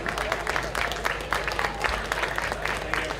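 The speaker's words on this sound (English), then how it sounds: "Please give them a round of applause." An indoor audience at a boutique fashion show applauds the models, a steady patter of many hands clapping at moderate volume with some crowd murmur underneath.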